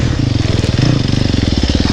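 A dirt bike engine chugs at low revs in a tall first gear on a hard enduro trail, giving a loud, close, rapidly pulsing thump that stays steady throughout with no clear talking.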